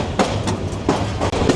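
A fully loaded passenger train travelling from Dhaka toward Kishoreganj rumbles steadily, with a rhythmic clickety-clack of wheels over rail joints repeating every half second or so, heard loud and close from inside the carriage.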